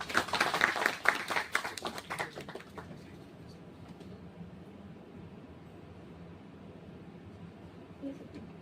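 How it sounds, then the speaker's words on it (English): Audience clapping to welcome a speaker at a rural entrepreneurship incubation center event, a brief burst of fairly close claps that dies away after about three seconds into quiet room noise. "Let's welcome Mr. Vijay with a round of applause."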